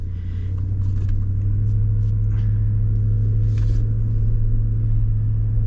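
A four-wheel-drive vehicle with traction control climbs in high range with the differential unlocked, its engine a steady, loud, low rumble throughout with faint scrapes over it.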